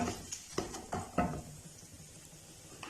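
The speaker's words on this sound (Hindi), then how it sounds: "कुकिंग ऑयल के साथ जो है वो 30 सेकंड के लिए तमाम मसालों को भून लेंगे" Spices and fenugreek roasting in hot cooking oil give a faint, low sizzle, broken by several soft spoon-against-pan knocks early on before the hiss settles.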